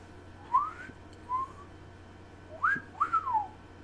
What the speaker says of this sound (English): I'm not good at whistling.